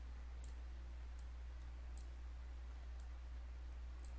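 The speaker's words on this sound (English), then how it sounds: "we can then start going in and clicking" Faint computer mouse clicks, about six, spaced irregularly over a steady low electrical hum while a security server interface is operated on a desktop; no talking.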